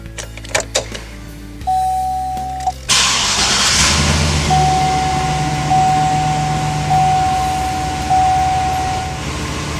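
A 2007 Chevy 2500HD under repair for a reduced engine power fault cranks briefly, then starts and settles into a steady, loud idle with a faint high whine, heard alone after a few clicks.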